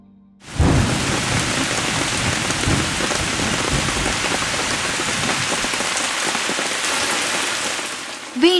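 Heavy, unexpected rain pours down steadily around a home, a dense, loud and even roar that starts abruptly and holds throughout.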